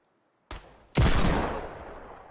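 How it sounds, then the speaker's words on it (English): Desert Eagle pistol fire in a video game: a sharp crack followed by a louder, booming shot with a long decaying tail, close and loud. "I'm shooting with my deagle"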